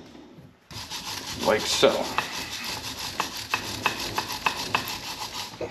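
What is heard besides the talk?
wire brush scrubbing car brake hardware surface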